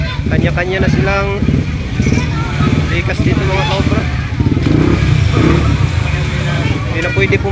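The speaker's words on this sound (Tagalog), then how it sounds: "Oh, mga motor, mga sasakyan." Motorcycles and cars pass along a flooded road, their engines revving and rumbling steadily nearby beneath almost continuous talking.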